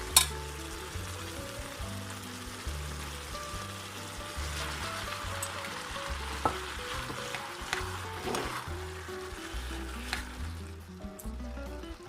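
Vermicelli noodle filling with vegetables being stirred in a frying pan for rose-shaped pastel pastries: a steady, close sizzle with occasional scrapes and clatters of the utensil, under soft background music.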